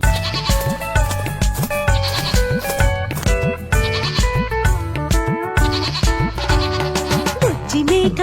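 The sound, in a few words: goat bleating in children's rhyme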